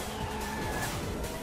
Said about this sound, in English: Level 2 drift.